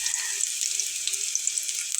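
Onion and garlic frying in hot oil for a Bangladeshi kochur mukhi (taro root) bharta, a steady close hiss and crackle of sizzling that runs unbroken for the whole stretch with no voices.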